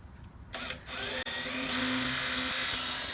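A power drill bores through the coated underside of a Jeep YJ, spinning up after a brief start and running as a steady, loud whine with a short dip partway through.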